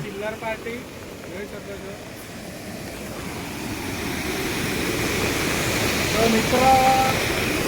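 Strong rushing flow of water over slippery rocks near a waterfall at Devghat, a steady broadband roar that swells gradually louder, with a person talking over it.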